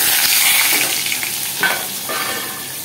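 Potatoes and black cumin seeds fry in hot oil in a pan, giving off a loud, continuous sizzle broken by stirring scrapes, with no voices.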